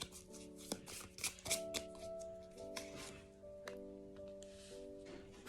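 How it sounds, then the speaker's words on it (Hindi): Cards are drawn from a deck by hand in soft, brisk riffles and flicks, close and quiet, over a gentle sustained musical background with no voice. "और मैं कुछ कार्ड्स इस डेक से पिक करूँगी।"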